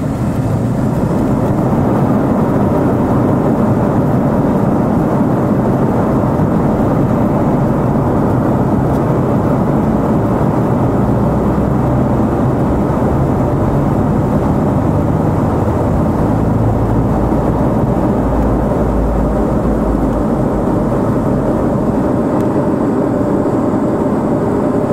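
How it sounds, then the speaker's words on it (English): A steady, loud roar of a jet airplane taking off fills the whole stretch, a broad rumbling engine noise that holds constant without pause. "there goes a plane flying off"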